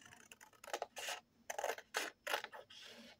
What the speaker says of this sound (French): Donc je reprends mon gros ciseau ou le ciseau normal. Je vais couper en deux.